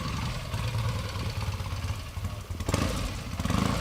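A 1974 Triumph T140V Bonneville 750 motorcycle engine idles close by with a steady, loud, lumpy rumble and a slight clatter, briefly dipping before picking up again, with no voices.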